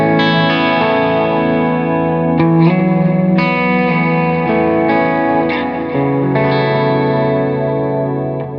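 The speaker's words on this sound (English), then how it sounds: "let's just show you this delay, which I absolutely love. It's got a lot of modulation on it." Electric guitar played through a heavily modulated delay effect on a Headrush Prime unit, sustained chords and notes washing into wavering echoes, loud and continuous with no talk.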